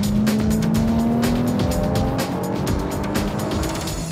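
A Lotus Evora S drives hard on the Lotus test track, its engine loud and close with a rising note, accompanied by tyre noise and a steady roar throughout.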